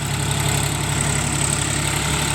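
A tractor engine idles steadily and loudly nearby in a cotton field, a continuous low rumble with vibration and no voices.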